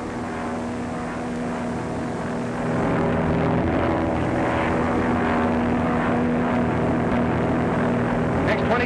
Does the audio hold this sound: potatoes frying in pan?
no